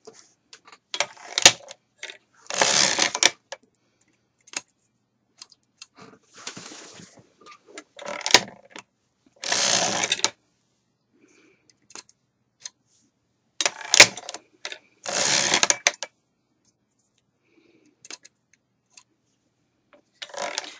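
Hand-cranked sock knitting machine worked through a hung heel, heard as several separate bursts of rapid mechanical clatter with quiet pauses between them.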